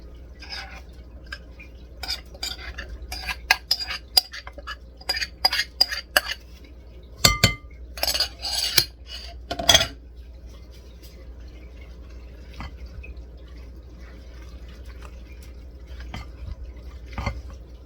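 Raisin bran muffin batter is stirred together with a cereal mixture in a bowl, with a run of close clinks and scraping knocks against the bowl in the middle. Quiet gaps come before and after.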